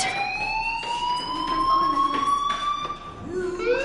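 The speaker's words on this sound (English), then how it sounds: "Hey, do you hear that fire alarm?" Fire alarm wailing in a school hallway in the Life is Strange video game, a rising electronic siren tone sweeping continuously over several seconds with faint background clatter.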